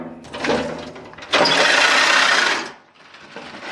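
Grass-cutting blades spin up with a crisp mechanical whir and clatter, rising to a loud burst for about a second before easing back down.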